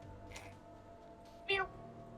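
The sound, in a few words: cat meowing in the video game Hakuoki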